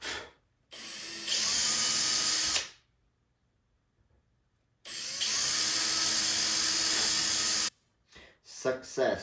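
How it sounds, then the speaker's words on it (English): A power drill boring screw holes into a simple wooden box whines in two long, loud bursts of about two seconds each with a quiet gap between, followed by brief handling noises. "I have drilled the holes and not drilled through the top."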